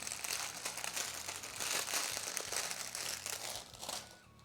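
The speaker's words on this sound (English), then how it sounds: "I'm really sorry for the crinkling." Paper or plastic crinkling close to the microphone, a continuous run of soft crackling rustles that fades slightly at the end, with no voices.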